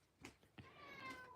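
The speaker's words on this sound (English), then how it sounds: "Hopefully you can hear him meowing across the room." A pet cat meows from across a room, a few soft, drawn-out cries with rising and falling pitch, faint and somewhat distant.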